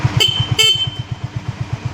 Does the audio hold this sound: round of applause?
no